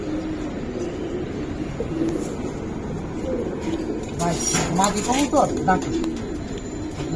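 Giribaz pigeons coo and rustle close by in a loft while someone talks throughout, with fluttery cooing growing busier in the second half.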